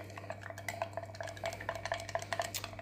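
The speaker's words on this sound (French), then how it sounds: "Donc on remue énergiquement" Vigorous stirring of a runny texture paste in a pot, producing a steady run of quick scraping and clinking strokes at close range, with no voices.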